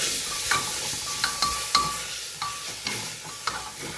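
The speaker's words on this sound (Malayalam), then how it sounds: "തക്കാളി നന്നായിട്ട് വഴറ്റണം" Chopped tomato sizzles in hot oil in a pan for Kerala chicken kurma, with a steady frying hiss and regular scrapes and clinks of a spoon stirring against the pan, close and alone.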